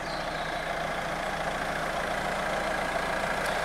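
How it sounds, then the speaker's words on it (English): A Renault Scenic car's engine idles steadily at close range, a continuous low, even hum with no change in revs and nobody speaking. "Well, the car is running at the moment."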